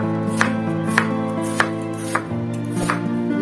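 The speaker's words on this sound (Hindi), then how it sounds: "और इस प्याज को जो है मैं बहुत बारीक भी नहीं काटूंगी, बहुत मोटा भी नहीं" Onion, green chili and ginger chopped with a knife on a board for onion pakoras: about five evenly spaced, close knife strikes over a steady background tone.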